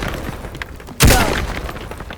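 A tall building is smashed and brought down in the destruction game Teardown, heard as one sudden heavy boom about midway, followed by a rumbling crash that slowly fades over quieter background noise.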